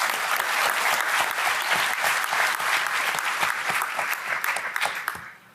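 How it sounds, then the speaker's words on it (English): An audience applauds a symposium panel, a dense, steady burst of clapping from a roomful of people that holds for several seconds and then fades out. "I would like to request another set of applause for the members of our panel."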